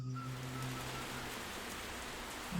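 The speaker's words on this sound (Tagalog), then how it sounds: "bigla na lamang bumuhos ang napakalakas na ulan" Heavy rain pouring down suddenly in a rural village, a dense, constant hiss of downpour on surfaces filling the scene at steady loudness, with a faint low tone briefly at the start.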